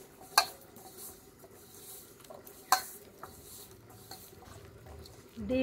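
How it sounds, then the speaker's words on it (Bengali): Taro stolon batter mixed with an egg, salt and turmeric powder in a bowl: quiet, steady stirring and squelching, punctuated by two sharp clicks of a utensil against the bowl, close by. "এবার খুব ভালোভাবে মিশিয়ে নেব।"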